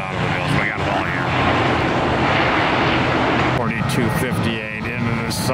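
A fixed-wing airplane arriving at Tampa airport, its steady broadband engine roar loud and continuous throughout, with voices talking faintly underneath.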